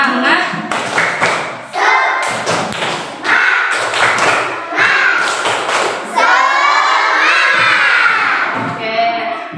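Schoolchildren in a class 3 lesson do a rhythmic clapping cheer, sharp claps and thumps falling in quick patterned bursts with shouted young voices chanting along, loud and close.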